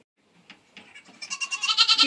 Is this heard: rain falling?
no